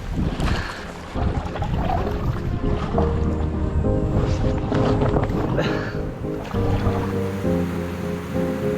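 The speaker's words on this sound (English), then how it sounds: "I hear a boat coming." Waves wash and slosh close by on a river in the Amazon jungle while an approaching boat engine hums low underneath, with wind gusts and a voice speaking over it.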